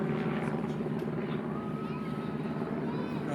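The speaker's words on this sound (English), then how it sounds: "there's a helicopter that sounds, although it's an airplane" A propeller airplane passing overhead at an outdoor park concert, a steady loud droning rumble that fills the whole moment without pause, with voices faintly underneath.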